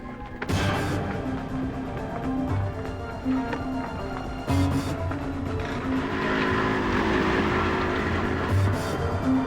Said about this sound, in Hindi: मोटरसाइकिल, वो भाग रहा है।